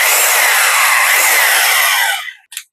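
A rotary hammer drilling machine runs in drilling mode, giving a loud, steady high-pitched whine for about two seconds before it winds down, followed by a short burst as it briefly restarts.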